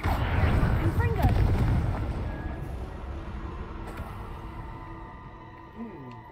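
A Confringo spell explosion in the Hogwarts Legacy video game gives a heavy, rumbling blast that rolls and slowly fades over several seconds, with a voice speaking over the start.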